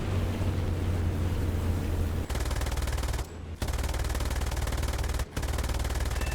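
A Bf 109 E-7 fighter fires its guns in War Thunder, a dense, loud and continuous burst of automatic fire broken by brief pauses over the roar of the engine.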